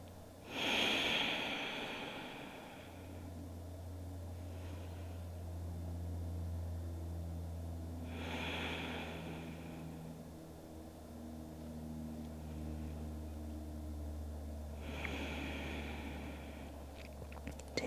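Slow, deep breaths drawn during a child's pose in a trauma-informed yoga session, three soft airy exhales spaced several seconds apart over a low steady hum in a quiet room.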